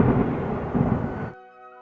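Heavy rain roars alongside rumbling thunder for over a second, then cuts off abruptly, leaving a faint tonal hum.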